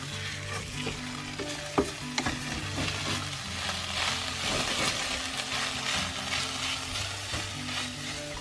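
Spices are mixed in a hot pan inside a van, a continuous close sizzle broken by a couple of sharp clinks and knocks from the stirring utensil.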